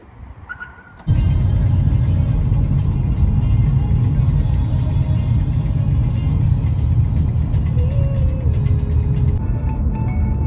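A car engine starts after about a second and then runs as a loud, steady low rumble with road noise, heard from inside the car on the way to buy groceries; a brief faint tone rises near the end.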